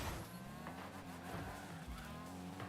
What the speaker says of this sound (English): One of these guys has a really stupid engine noise.